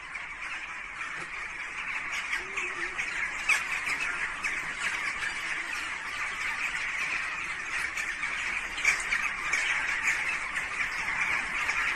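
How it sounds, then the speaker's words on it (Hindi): Flocks of birds squawk and honk in a dense, continuous chorus after an earthquake, many calls overlapping at moderate distance with sharper cries standing out now and then, and no voices. "वीडियो इस वक्त आप देख रहे हैं, पक्षी उड़ रहे हैं"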